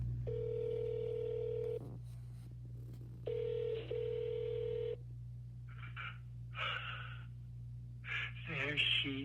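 A phone call to the Longlegs number, with steady telephone tones and ringing over a constant low hum, then faint garbled sounds toward the end.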